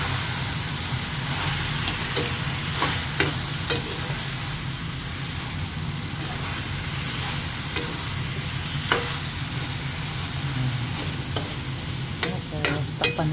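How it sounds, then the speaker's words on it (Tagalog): A dish frying in a pan while being stirred, with a continuous sizzle and scattered scraping clicks from the utensil throughout. "Haluin natin siya."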